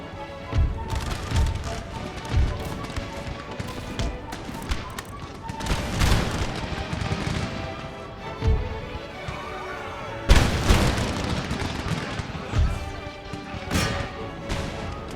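Puckle guns fire in an Empire: Total War battle, a dense, continuous rattle of gunfire and booming volleys with sharp louder bursts near 0.5, 6 and 10 seconds, set among a busy battlefield din.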